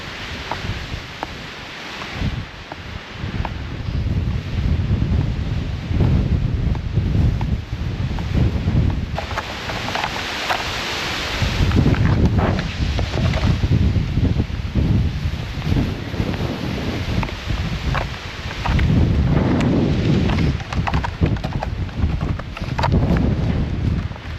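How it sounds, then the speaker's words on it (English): Strong gusty wind buffets the microphone on the Loch Vale mountain trail in winter, roaring in waves with crunching footsteps beneath, loud and continuous. "It is blowing pretty hard."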